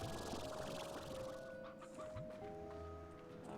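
Painted chicken clucking in the video game Slime Rancher, a steady run of soft, close clucks and chirps over a continuous tonal game background.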